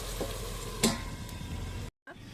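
Elephant foot yam stalks simmer in water under a lid, giving a steady bubbling hiss with a single clunk partway through and a brief silent break near the end.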